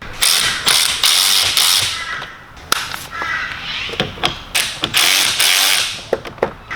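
Socket wrench loosening the battery terminals on a Hyundai Getz, a loud run of sharp ratcheting clicks and metallic clacks in quick bursts close to the listener.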